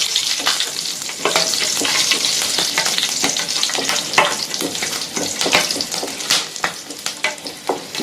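Chillies and cumin frying in hot oil in a pan, a steady close sizzle with crackles and occasional stirring scrapes, no voices.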